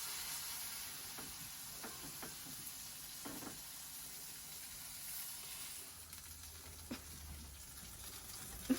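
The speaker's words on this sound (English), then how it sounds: "You got the shrimp shells cooking with the Riesling." Shrimp shells slow-cooking with Riesling in a pan give a faint, steady sizzle and hiss, with a few soft clinks and stirring sounds scattered through it.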